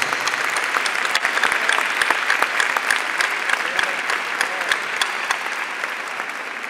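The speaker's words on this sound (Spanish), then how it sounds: "un reconocimiento y un aplauso fuerte para todos y para todas" Loud, sustained applause from a crowd at a provincial education congress, dense clapping that holds steady throughout.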